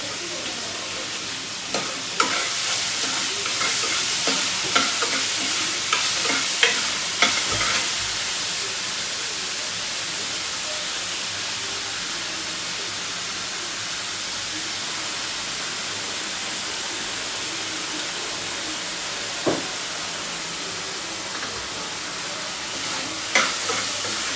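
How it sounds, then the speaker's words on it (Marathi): Onion frying and being stirred in a pan for dhaba-style chicken, salted, giving a steady broadband sizzle throughout with scattered clinks and scrapes of stirring, close and fairly loud with no talk. "कांद्यात घातलं म्हणजे कसं कांदा भाजला जातो"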